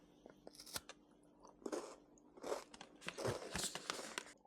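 Crisp bites and crunches into a chocolate-covered ginger biscuit, several sharp snaps spaced irregularly followed by close, crackly chewing, with no talking.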